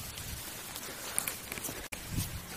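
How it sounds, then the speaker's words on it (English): Rain falling steadily during a bass fishing outing, a soft continuous patter with a brief dropout, faint and fairly distant. "It is raining cats and dogs here."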